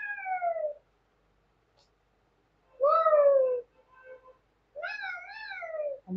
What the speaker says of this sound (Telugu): అమ్మో పిల్లి వచ్చేసింది గుండు పిల్లి వచ్చేసింది